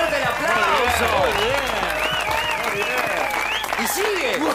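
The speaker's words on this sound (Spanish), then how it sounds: "¡Fuerte el aplauso!" Applause from a TV studio audience on an Argentine daytime variety show, steady and loud, with a host's voice and music-like tones running over the clapping throughout.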